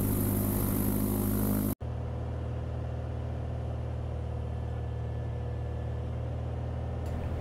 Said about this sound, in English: flying the Cessna 182, also in Washington State, in the Cascade Mountains